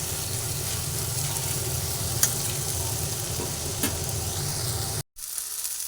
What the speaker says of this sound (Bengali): আবার একটু ভালোভাবে নাড়াচাড়া করে দিচ্ছি এইভাবে ফুটে দেবো গ্যাসের ফ্লেমটা মিডিয়ামে রেখে